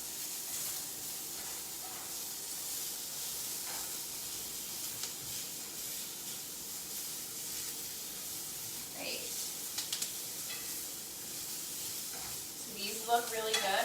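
Onions caramelizing in a skillet alongside steak and mushrooms, a steady faint sizzle and hiss with occasional stirring noises, while a person talks over it.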